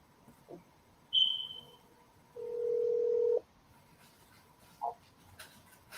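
Telephone line tones sound as a live caller is connected: a short high beep, then a sustained lower tone lasting about a second, followed by a brief chirp, all fairly clear over a quiet line hiss.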